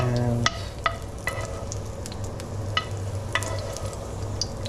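Cooked garlic is scraped out of a sizzling pan, a steady close frying hiss punctuated by sharp utensil scrapes and clicks against the pan, with a brief spoken word.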